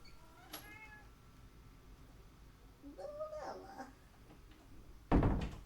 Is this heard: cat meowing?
yes